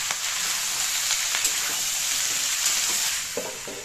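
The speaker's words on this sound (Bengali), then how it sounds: "নেড়ে চেড়ে ভালো করে ভাজতে হবে।" Spring onion greens and a chopped whole tomato sizzle in a hot pan while being stirred, a steady bright frying hiss with a few soft spatula scrapes, heard close and without talk.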